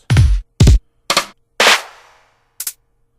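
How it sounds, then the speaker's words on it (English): A hip hop drum sample file played back: five punchy, separate drum hits spaced roughly half a second apart, loud and dry with silence between, the last one softer and sharper. "In this folder here, I have a file called hip hop drums."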